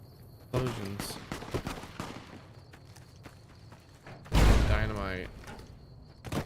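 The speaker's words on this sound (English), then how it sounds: "Explosions." Dynamite explosions in Fallout New Vegas, two booming blasts, one early and a heavier, rumbling one a few seconds later, with scattered thuds and gunfire-like cracks between them.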